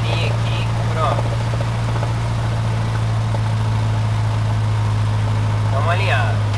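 Light airplane engine running at about 1000 rpm while lined up before takeoff, a steady low droning hum heard beneath intermittent cockpit talk.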